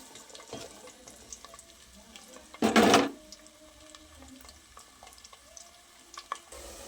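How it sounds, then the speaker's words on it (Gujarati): About 250 grams of cut ivy gourd (tindora) goes into hot oil in a home kitchen for a tindora-potato curry, with one brief, loud sizzling burst, then a faint crackle under quiet room noise. "જ્યાર સુધી આપણા ટીંડોળા ફ્રાય થાય છે"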